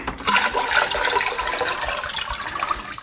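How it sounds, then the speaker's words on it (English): Water pours steadily into a quarantine aquarium tank being filled to the top, a close, continuous splashing gush with no talking. "this should be the last bit of water I need in here."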